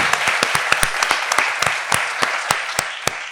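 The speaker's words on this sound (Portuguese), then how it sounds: "Uma salva de palmas para eles." Audience applause at a poetry festival panel in Brazil, a short burst of clapping with sharp individual claps standing out near the front, no talk.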